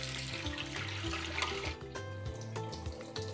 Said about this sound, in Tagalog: Hugasan muna natin.